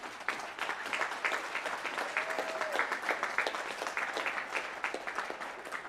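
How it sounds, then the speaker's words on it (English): Audience at a Southern Utah Republican candidate forum applauds, a steady wash of many hands clapping that carries on evenly for several seconds, fairly close. "Please give yourselves a hand for staying."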